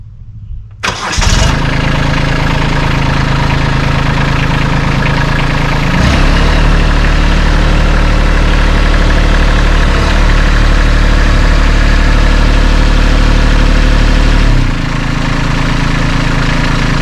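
A tractor engine starts up and settles into a steady, loud, close idle that holds for over ten seconds, with a brief rev midway and a drop at the end, on a sawmill for turning a big log.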